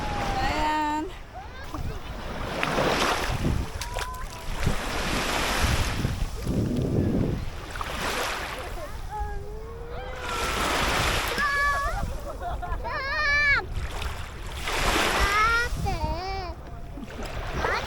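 Sea waves wash onto a summer beach in Japan with a steady surf roar and heavy wind buffeting. Children's and adults' voices are heard over the water throughout.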